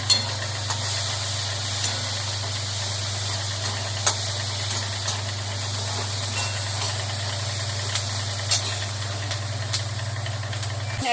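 Soybean chilli sizzles steadily in a pan as soy sauce goes in, a constant low hum running under bright frying crackle with occasional sharper ticks; no talking.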